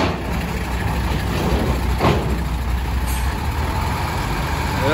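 A trailer truck hauling steel at Merak port rumbles steadily and loudly nearby, its engine drone continuous with a brief hiss partway through.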